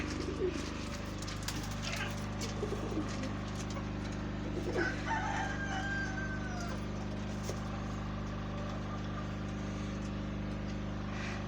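Birds calling around a coop with a rooster's crow rising briefly in the middle, over a steady low hum and faint background voices.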